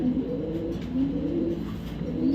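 Racing pigeons coo in a steady, low murmuring chorus close by, the soft rolling calls overlapping continuously with no voices.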